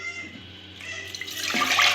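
Water is poured from a cup into a cooking pot while making rava vadiyalu, building into a louder splashing pour toward the end.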